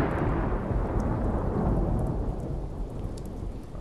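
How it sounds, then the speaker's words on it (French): Thunderstorm with steady heavy rain in the video game Paper Dolls, a dense continuous roar of rainfall with low thunder rumble, loud and close throughout, easing slightly toward the end, with no voices. "Ok, donc il pleut, il y a de l'orage."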